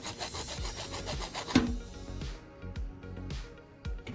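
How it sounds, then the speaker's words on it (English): A hacksaw cuts through PVC pipe in steady, close back-and-forth strokes, a rhythmic rasping that clearly repeats for a few seconds before pausing briefly near the end. "I'm using a hacksaw to cut it to serve as the main body of our tool"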